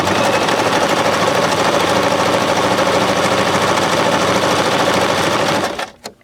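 A Baby Lock Zest sewing machine stitches a buttonhole in a steady, loud, fast mechanical whir with rapid needle clatter that runs without a break for about six seconds, then stops abruptly.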